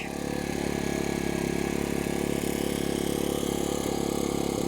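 An Erayak 4500P portable generator idling steadily with a constant low engine hum and buzz, close and unbroken, with no voices.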